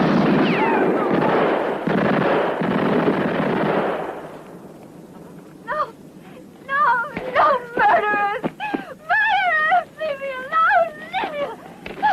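Gunfire in a western war-film battle: a loud burst of noise and shouting, then sharp scattered shots ringing out amid yelled voices.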